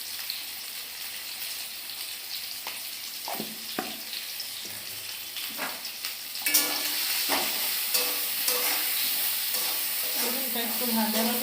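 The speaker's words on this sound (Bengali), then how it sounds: "একটু ভাজা ভাজা হোক," Food frying in a pan with salt and turmeric added, steady sizzle with scattered stirring clicks that grows louder midway as more goes into the hot oil.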